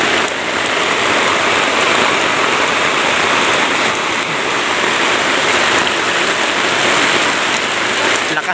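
Heavy rain pours onto a small tent on a mountainside, a loud and dense drumming hiss that stays constant and close with no break.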